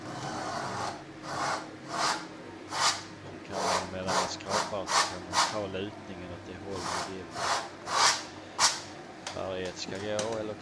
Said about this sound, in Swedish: Nu skrapar vi väck det, så kör vi om.